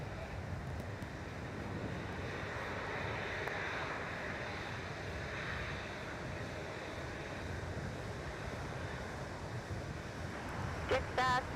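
A jet aircraft takes off from runway 34 at Melbourne Airport, heard as a steady, distant engine roar mixed with strong wind buffeting the microphone throughout.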